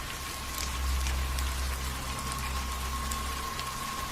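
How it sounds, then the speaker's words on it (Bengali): Steady, even rainfall hisses for about four seconds, with light drips scattered across it. A faint low hum and a thin steady tone run underneath. "বৃষ্টি কখনো ঝিরঝিরে"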